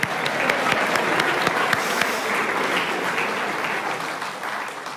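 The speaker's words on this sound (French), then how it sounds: "On peut applaudir Naïs, merci." Applause from a church audience, close sharp claps at first that swell into a full steady round of clapping, then ease off slightly toward the end.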